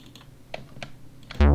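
Fingers tap a few separate keys on a computer keyboard, sparse and fairly quiet, ending in a sudden loud tone.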